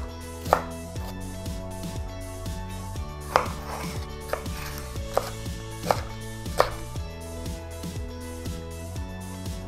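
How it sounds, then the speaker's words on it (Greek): A knife finely chops green and red bell peppers on a board, a quick steady run of close taps with a few sharper louder knocks, alone without talk. "Ψιλοκόβω μία πράσινη και κόκκινη πιπεριά."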